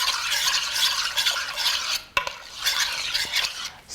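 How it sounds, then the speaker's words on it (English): Tomatoes being stirred with olive oil and salt for a tomato stew, a close, steady wet scraping and swishing of a utensil through the sauce with brief clinks against the bowl, one sharp tap midway. "Stirring it together just really makes sure that that olive oil coats through with the sauce"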